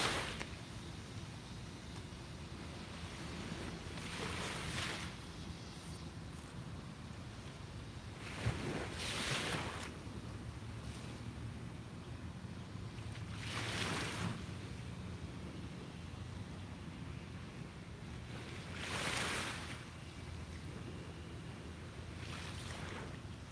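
Ocean waves roll onto a beach in slow, regular swells every few seconds, a steady broad wash with some wind noise and no talk.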